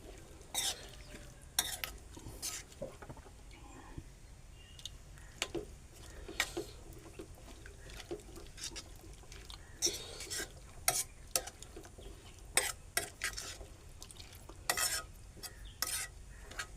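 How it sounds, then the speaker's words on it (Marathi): A spatula stirs chickpea (chole) curry in a pan: quiet, irregular scrapes and sharp taps against the metal over a faint low sizzle, spaced out across the stretch. "तर आपण ढवळून घेऊ"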